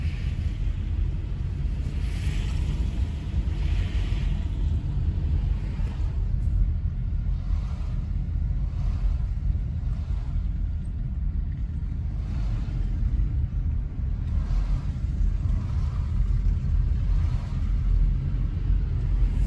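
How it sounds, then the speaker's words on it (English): Road traffic heading into Big Bear, California after heavy snow, a steady low rumble of car engines and tyres heard from inside a vehicle, continuous and close, with no talking. "this traffic coming into town is crazy"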